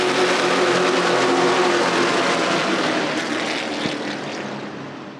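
Race car engines roar at Irwindale Speedway on opening night of the 2024 season: a loud, dense, continuous engine roar from a passing pack that slowly fades and recedes over a few seconds.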